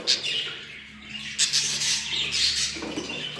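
Budgerigar chicks and their parents chirp in a steady run of high, close tweets and squeaks that carry on throughout without pause.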